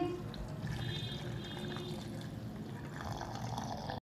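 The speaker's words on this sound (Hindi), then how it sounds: "इधर मैंने मिल्क लिया है, हम वो भी डाल देंगे।" Milk poured into a steady, continuous liquid stream while making peach juice, close and fairly quiet, running without a break until it stops abruptly at the end.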